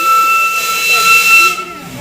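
The Darjeeling steam toy train sounds a loud, steady, high whistle close by, with hissing steam underneath, as it starts. The whistle cuts off after about a second and a half, leaving a softer hiss.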